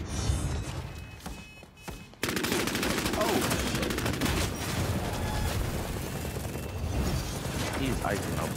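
Heavy machine gun fires in a Bloodhunt team deathmatch on PS5. A brief quieter stretch gives way to loud, sustained rapid bursts that continue without a break.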